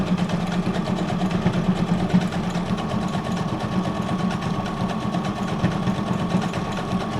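A sewing machine stitches pages of a game-board junk journal, giving a steady, close mechanical whirr with a fast rhythmic clatter that runs unbroken from start to finish, with no voices.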